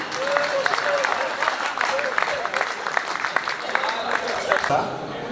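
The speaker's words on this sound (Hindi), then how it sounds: "आप सब मिलकर तालियां बजाएं और तब तक बजाते जाएं" Audience applause at a kavi sammelan poetry gathering in Pandhurna, a sustained, dense clapping that carries steadily from start to finish, with voices and crowd noise mixed in underneath.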